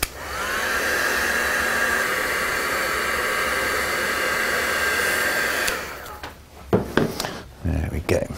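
A heat tool blows steadily while drying paint on a mixed media tag, a loud even whoosh that runs for about six seconds and then cuts off, followed by a few soft handling knocks.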